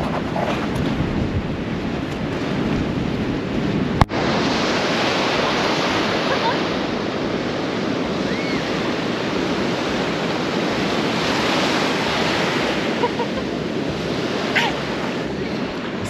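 Waves on a Baltic Sea beach roll in a continuous broad wash, with steady wind noise buffeting the microphone and one sharp knock early on, loud and unbroken throughout.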